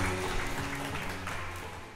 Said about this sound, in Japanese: 皆様大きな拍手よろしくお願いします。